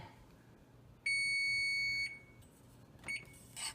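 A kitchen timer beeps when cupcakes finish baking: one long, shrill electronic tone lasting about a second, then a couple of shorter, fainter beeps, close by with no talking.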